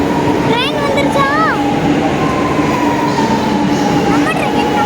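A metro train pulls into a station with a loud, continuous rumble and rising, bending metallic squeals, while a faint voice is heard under the noise.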